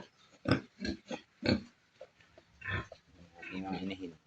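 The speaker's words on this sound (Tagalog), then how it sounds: "Pakain muna ng baboy." Pigs being fed on a Philippine farm grunt and squeal in short close bursts, several loud snorts early and a longer rough stretch of grunting toward the end.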